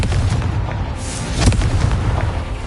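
Confringo explosive spell in a video game, a rumbling blast with a booming low-end burst mid-clip over a continuous dense roar.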